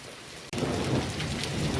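Heavy stormy rain falls steadily in Bagasara, hail mixed in, a dense close hiss that starts abruptly after a brief lull and continues unbroken, with low rumbling underneath and no voices.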